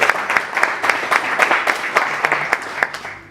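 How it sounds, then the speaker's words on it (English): Audience applause for a panelist at an energy panel discussion, a moderately sized crowd clapping with distinct individual claps audible in a loose, fairly steady patter. "A round of applause for her."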